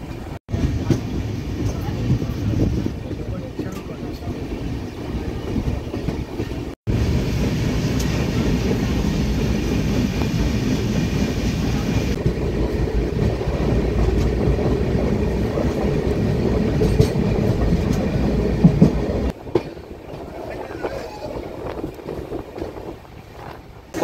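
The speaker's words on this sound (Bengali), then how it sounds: "এখানে 2 মিনিটের হল্ট ছিল, ট্রেন আবার ছেড়ে দিয়েছে" A passenger train running through Bihar toward Kishanganj after a two-minute halt, a steady close rumble and clatter of the carriage continuing throughout, with a brief break partway through.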